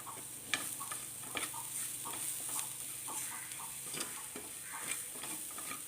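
Onions, green chili and ginger fry and get stirred in a pan for a Kerala okra and ginger yogurt dish, a steady close sizzle broken by scraping stirs, with no talk.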